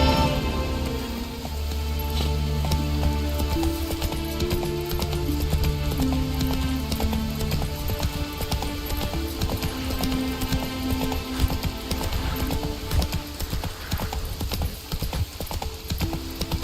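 Roach the horse galloping in The Witcher video game, a steady run of hoofbeats carried under loud, continuous orchestral game music for the whole stretch, with no talking.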